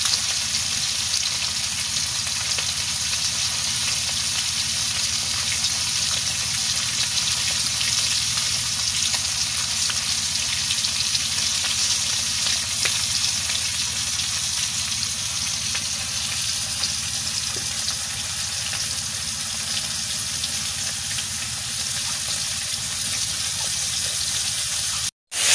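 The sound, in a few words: fish frying in oil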